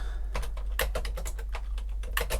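Quick bursts of keystrokes tap on a computer keyboard while renaming a part studio in CAD software, close and fairly quiet over a low steady hum.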